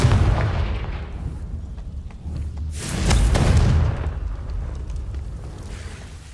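Blasting-spell explosions in the Hogwarts Legacy video game, a series of loud booming bursts over rumbling low noise, with the biggest blast peaking about midway through.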